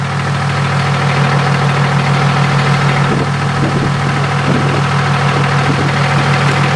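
A monster truck engine idles steadily and loudly up close, a constant low rumble with faint knocking and vibration and no talking.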